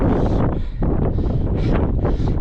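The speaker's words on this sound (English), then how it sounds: "a little bit breezy up here. Wind's coming from that direction." Steady wind buffets a microphone high on an open fell in the northern Lake District, a dense, continuous roar with gusty swells and a brief lull partway through, loud and alone with no talking.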